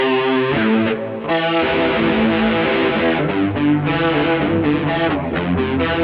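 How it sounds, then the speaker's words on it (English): An electric guitar through a Mooer GE100 multi-effects unit plays a lead line with a shimmering chorus effect over overdriven tone, sustained notes ringing out loud and unaccompanied. "Got a nice chorus on there over the drive."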